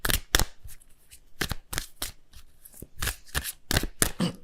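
Tarot cards shuffled by hand while drawing a card for Virgo in a reading, giving a run of crisp riffling bursts in an uneven rhythm, close and fairly loud with no talking.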